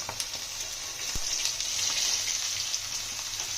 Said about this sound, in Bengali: এই মাছ খুব নরম, এই জন্য আস্তে আস্তে উল্টাচ্ছে। আমরা কড়া করে মাছগুলো ভেজে নিয়েছি